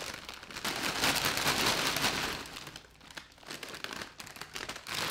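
A plastic Doritos chip bag full of crushed chips crinkles and rustles up close in bursts of crackly handling, louder at first, then in shorter uneven scrunches.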